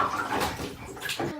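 Water splashes and sloshes in a bathtub as children bathe, a close, continuous churning of small splashes and ripples with a brief louder swish near the end.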